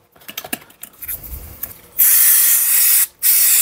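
Brake cleaner from an aerosol can hisses onto Morris Minor carburettor parts in two loud sustained bursts separated by a short pause, after a run of light clicks and mechanical handling noises.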